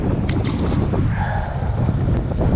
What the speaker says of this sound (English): This wind is absolutely ridiculous